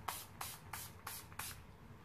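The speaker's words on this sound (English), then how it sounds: "This is the Urban Decay All Night Makeup Setting Spray." Urban Decay All Night makeup setting spray misted in five short, even pumps, each a bright hissing burst with brief gaps between, close to the mic.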